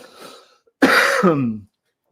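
A single loud cough, close up, with a rasping throat-clearing quality, followed by brief quiet.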